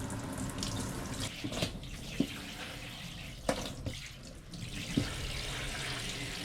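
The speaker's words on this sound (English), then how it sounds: "You can see the water draining out the back here." Hot water streams steadily from a Hike Crew portable water heater shower on a DIY truck camper setup, a continuous close hiss of running flow with a few brief splashes and knocks.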